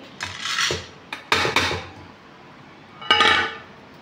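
Washed potatoes tumble into a pressure cooker for chana dal and potato payasa, giving three bursts of clattering, knocking metal and tumbling thuds, close by with no speech.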